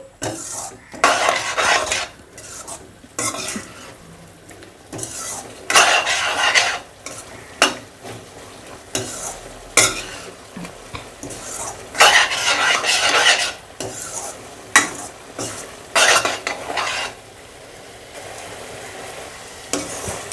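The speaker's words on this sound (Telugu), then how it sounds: "అదంతా కూడా థిక్గా అయిపోయే వరకు గరిటతో కలుపుకుంటూ మనం ఫ్రై చేసుకోవాలి" Prawns frying in a thickening masala, stirred with a metal ladle: repeated clattering scrapes against the pan come in uneven bursts over a constant close sizzle, with brief quieter gaps between strokes.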